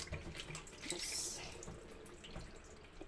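Faint tap water runs and splashes while oregano leaves are washed in a sink, making a soft, steady trickle with a slightly louder gush partway through.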